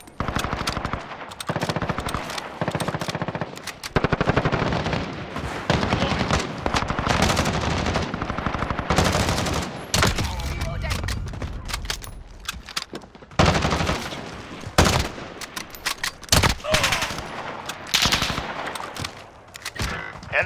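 Enemy machine-gun fire in a video game drop zone, sustained rapid bursts crackling loudly and close for the whole stretch, broken by short gaps between volleys.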